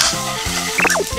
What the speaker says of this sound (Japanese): このタイミングでニンニクを炒めます